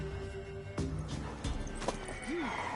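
A mare in the video game The Witcher 3: Wild Hunt clip-clops and whinnies, with hoof thuds, a rising-falling neigh near the end, and game music or ambience underneath.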